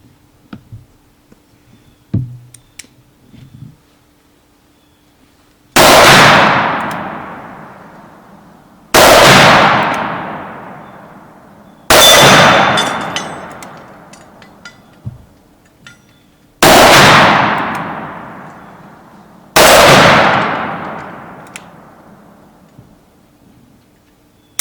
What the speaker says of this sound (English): Let's go ahead and shoot a few rounds.